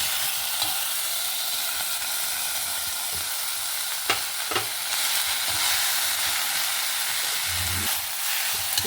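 Fenugreek leaves and onion frying in oil: a dense, continuous close sizzle with a few brief clinks and stirring bumps, no voices.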